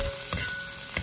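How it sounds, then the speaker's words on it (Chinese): Fermented black beans and garlic stir-fried fast in a little hot oil in a wok, a brief loud sizzle with quick stirring scrapes. "往锅中倒入少许的食用油，油了之后下入豆豉大蒜，再快速的翻炒，将它们炒香。"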